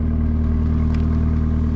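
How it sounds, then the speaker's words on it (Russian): A car engine rumbles steadily at close range, a deep low idle-like drone with a faint clattering texture, unbroken and with no talk over it. "Кроме рычащего машинного звука."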